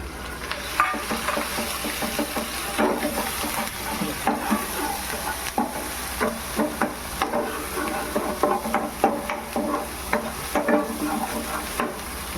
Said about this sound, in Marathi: याच्यात आता आपण कांदा पेस्ट टाकू